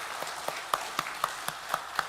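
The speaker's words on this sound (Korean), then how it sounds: "힘찬 박수로 격려를 하시겠습니다" At a Korean church Sunday service, the congregation claps in an even, rhythmic beat of about four claps a second, faint and somewhat distant, with no speech.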